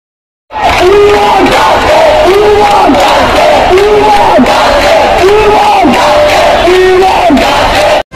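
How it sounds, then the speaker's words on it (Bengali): Polytechnic students blocking a road and rail line in Chittagong chant slogans in unison, a loud crowd repeating the same call in a steady rhythm, close and continuous. "তারা দাবি আদায়ে স্লোগান দিতে থাকেন।"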